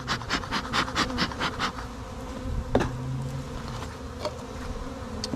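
Honeybees buzz inside an opened hive during a spring inspection, a steady close drone with pulsing swells early on and no talking.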